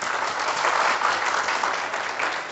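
An audience claps at a motivational speaking event, giving a dense, steady round of applause that lasts the whole moment with no break.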